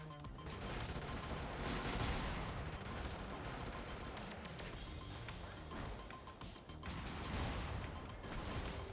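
Rapid gunfire and mechanical crashes from the mech combat game Brigador, a dense continuous barrage of shots and impacts with no talking.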